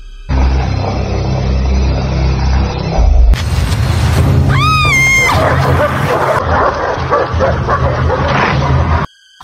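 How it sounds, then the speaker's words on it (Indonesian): A pack of predatory dogs in an Indian horror film scene, barking and yipping in loud overlapping bursts with whimpers and a booming hit, over dramatic background sound. "Ia tak tahu bahwa kawanan anjing pemangsa siap menyergap."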